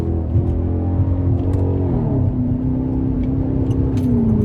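A straight-piped Chrysler 300 Hemi C burbles with a deep, loud exhaust rumble whose pitch slides down as the revs settle, steady and close, with no talking.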